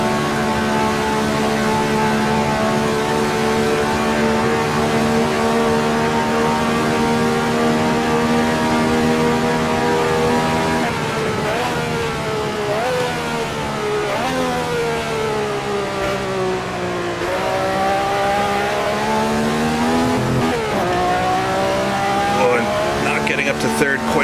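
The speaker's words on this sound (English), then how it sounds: "I'm really revving the engine out, but such a short race and just a few laps to go." A 1967 race car engine in Assetto Corsa at Monza revs hard and steadily, its pitch climbing and dropping through gear changes over a long stretch while someone talks over it.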